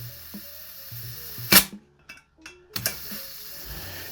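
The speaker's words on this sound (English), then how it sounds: "So fill valve on the back. I'm going to take my propane, very smelly propane." A sharp hiss bursts from a propane can as gas is pushed into the fill valve of an airsoft gas blowback pistol magazine, followed by shorter spurts and mechanical clicks, close and loud.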